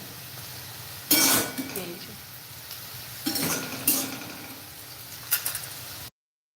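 Egg potato chowmein is scooped from one wok into another and stirred, giving metallic scraping and clinking bursts with a faint sizzle, close by and moderately loud, while a person talks.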